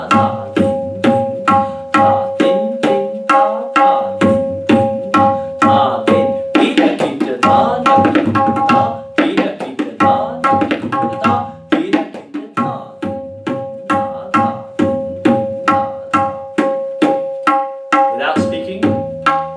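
Tabla strokes play a tihai phrase briskly over a sustained drone, building into a dense flurry in the middle before returning to crisp, evenly spaced hits.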